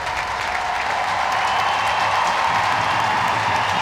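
An ice hockey crowd at a Sheffield Steelers play-off quarter-final applauds their captain in a dense, continuous wash of clapping and cheering that holds at the same level from start to finish.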